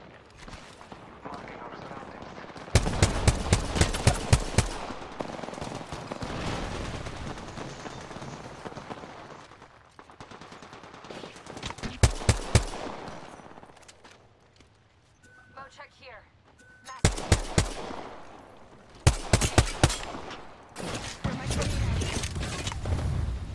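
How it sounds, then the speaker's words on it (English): Bursts of automatic video game gunfire come in several separate volleys with pauses between, loud and punchy, while people talk excitedly over the shooting. "I like this gun"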